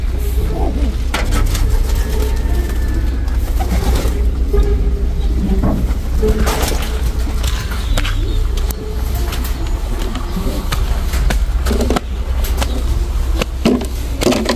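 Pigeons on a farm make soft cooing and fluttering sounds over a steady low rumble that sounds like passing traffic. Scattered knocks and rustles are heard close by.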